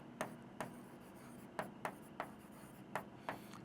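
Chalk or marker strokes on a classroom board during a Class 9 Hindi-medium maths lesson on polynomials, a run of about eight short scratchy taps spaced irregularly, close and moderately quiet with no talking.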